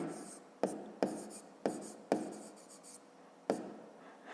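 Pen or chalk writing numbers by hand during a fifth-grade maths lesson: several distinct scratchy strokes with short bursts and pauses, close and fairly quiet, with no talk.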